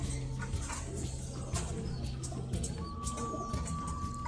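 Fancy pigeons coo on a pigeon farm, low repeated cooing notes pulsing roughly once a second close by, with a thin steady tone and other faint background sounds mixed in.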